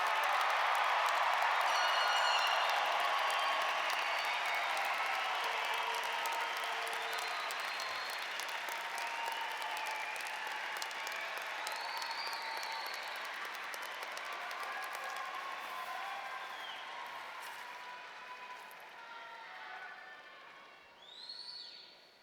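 A large crowd at a university commencement ceremony applauds in a broad, distant wash of clapping that slowly fades over about twenty seconds, with faint cheers and whistles scattered through it.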